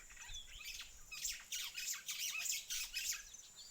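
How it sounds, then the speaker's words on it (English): White-browed sparrow weavers calling at a camp in Amboseli, a run of sharp, squawky chattering notes repeated in quick bursts at moderate distance over faint background hiss. "The white-browed sparrow weavers."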